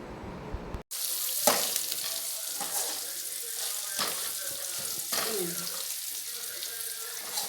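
Sliced onions frying in a pan with turmeric and salt, a soft sizzle broken by the scrape and clatter of stirring, after a brief cut near the start; quiet and close.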